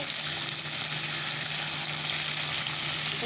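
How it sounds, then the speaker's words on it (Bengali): Chapila fish frying in hot oil, a steady dense sizzle with constant crackle running the whole time, close and loud with no talk. "কতক্ষণ মাছটা ভেজে তারপরে"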